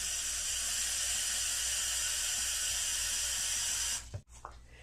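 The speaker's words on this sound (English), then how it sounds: "Fill the pitcher to the bottom of the masking tape." Water pours steadily into a pitcher with a constant hissing rush, then stops abruptly near the end with a small clunk.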